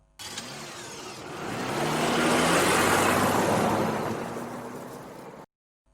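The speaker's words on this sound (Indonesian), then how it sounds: "lalu Tison pun pergi dengan mobil." A car drives off in a film scene, its engine and road noise swelling to a steady broad roar over several seconds and then fading before cutting to silence; no one speaks.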